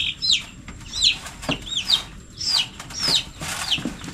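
Hens cluck near the microphone while newly hatched chicks peep in high, repeated chirps, with occasional wing flutters.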